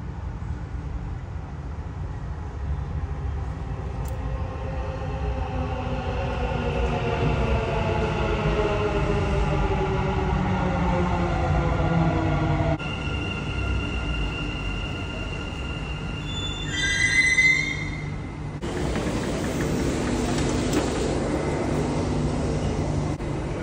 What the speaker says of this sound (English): The train to Expo 2020 will arrive at platform 2.